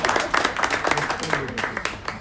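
Audience applause at a book launch for a memoir about the city of Tartu, clapping in a quick irregular patter that builds and then thins out, with a voice briefly audible underneath.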